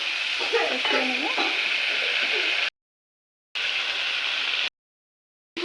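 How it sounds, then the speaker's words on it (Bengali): Paneer sizzling and frying in a hot pan, a steady hissing crackle with brief scraping stirs, cut by two short silent gaps. "এখন একটু ভালো করে কষিয়ে নেবে পনিরও ভাজা হয়ে গেছে"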